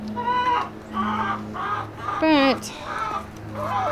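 Chickens cluck and squawk close by in a series of repeated calls, with a person saying a single word among them.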